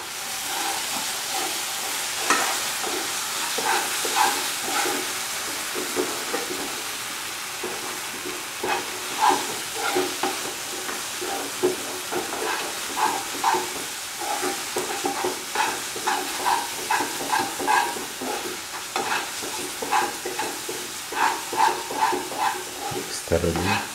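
Carrot halwa mixture with added ghee stirred in a pan, giving a steady soft sizzle with repeated scraping clicks from the spoon, with a voice speaking at times.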